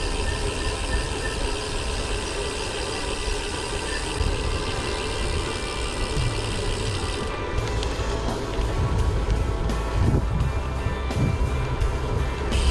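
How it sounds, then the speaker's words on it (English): Steady, loud wind rushes through woodland during a bike ride to a quarry, filling the whole stretch as a dense roar with low rumbling gusts and no voices. "Still pretty windy in here though."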